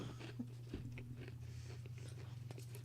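Close-miked chewing and biting with small crunchy clicks over a steady low hum, quiet and continuous, with no speech.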